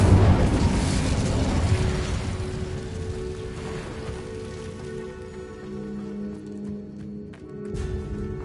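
The Incendio fire spell from Hogwarts Legacy bursts with a loud whooshing blast of flame, then crackles and hisses like rain as it dies down, while faint tonal hums linger afterward.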